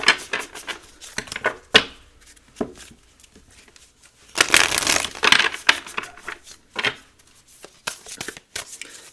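A deck of oracle cards is shuffled by hand in a series of crisp riffling and slapping bursts, some short and some longer, close up and with no talk.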